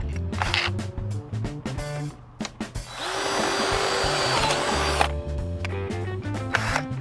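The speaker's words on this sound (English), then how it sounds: "you'll drill with the 964 drill bit first" A power drill bores with a 9/64 bit during a hard door enclosure install, running in a loud sustained whine for about two seconds after a few short bursts, then stopping.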